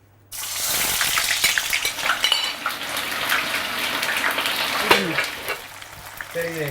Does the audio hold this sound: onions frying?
yes